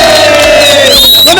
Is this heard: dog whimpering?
no